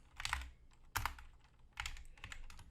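Computer keyboard keys clacked in three short bursts of typing, close and fairly quiet, with pauses between the bursts and no voices.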